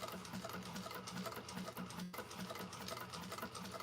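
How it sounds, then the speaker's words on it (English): Sewing machine running steadily, top stitching around the outside perimeter of a bag lining, a close, continuous rapid needle chatter with no pauses. "Okay, so I'm going to start sewing."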